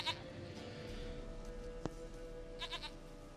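A goat bleats in the fantasy video game The Witcher 3, with a short nasal bleat at the start and a quicker wavering pair near the end over a steady background hum.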